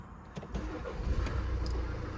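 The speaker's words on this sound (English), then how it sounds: "Just start the car up." A BMW X1 20d M Sport xDrive automatic with a 2.0-litre diesel engine starts up: a short starter catch, then a low engine rumble that builds and settles into a steady idle.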